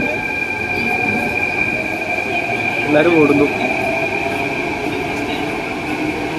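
Train at a busy Delhi station: a steady rail rumble with a faint high wheel squeal fills the whole stretch, while people talk close by over the crowd noise.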